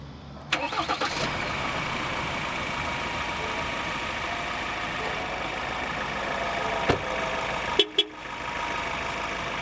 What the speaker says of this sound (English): now we're going to start the engine and let the oil warm up